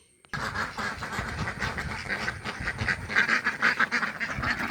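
Ducks on an organic duck farm quack in a busy, continuous chorus of overlapping calls, fairly close and loud after a brief quiet start, with no speech.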